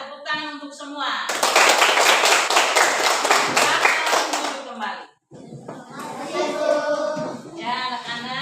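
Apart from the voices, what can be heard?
schoolchildren applauding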